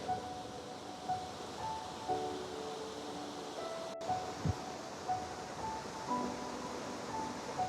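Clear river water flows above a waterfall near a gorge in Nikko's Kinugawa area in autumn, a soft continuous rushing wash at low level with faint scattered tones and no talking.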